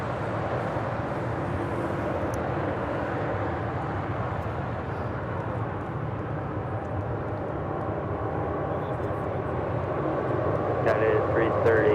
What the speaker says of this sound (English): we've got that United 777-200 heading to Chicago O'Hare, flight 2039, now rolling down 25 right